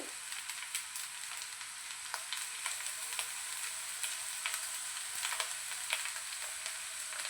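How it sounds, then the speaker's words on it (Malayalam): Vegetable fried rice frying in a pan as tomato sauce and soy sauce are added, a faint, continuous sizzle with small scattered crackles and pops, no voices. "ഇനി ഇതിലേക്ക് ടൊമാറ്റോ സോസ് ഒഴിച്ച് കൊടുക്കാം. Soya sauce,"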